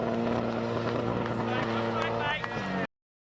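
A Nissan 180 drift car at Oran Park, its engine revving hard in a continuous loud drone with a shifting pitch, under a commentator's voice until it cuts off abruptly.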